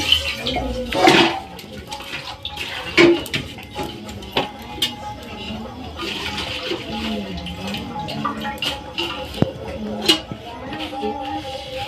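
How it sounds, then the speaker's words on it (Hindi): Tomatoes and coriander are swished and rinsed in water in a village kitchen, with irregular splashes, sloshing and a few clinks of a vessel, while someone talks over the washing. "मेरा जो टमाटर और धनिया आ गया है, तो मैं धुल देती हूँ"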